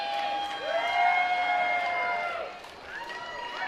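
A wrestling crowd at a Ring Warriors match cheers and shouts in a steady, moderately loud roar, with whistles and whoops rising through it and a brief dip near the end.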